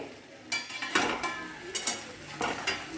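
Stuffed okra being stirred in a pan, scattered scraping and clinking strokes of a utensil against the pan over a soft background sizzle.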